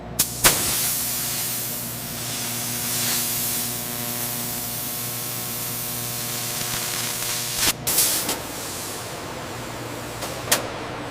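A laser cuts stainless steel sheet for the Tesla Cybertruck, a loud, steady spraying hiss over a low machine hum that runs for several seconds, broken by sharp clanks and bursts near the start and middle.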